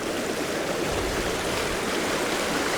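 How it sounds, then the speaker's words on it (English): River rapids in Donegal, Ireland rush past a big boulder close by, a dense, continuous roar of churning water with no pauses and no voices. "I got some river rapids at the very foreground"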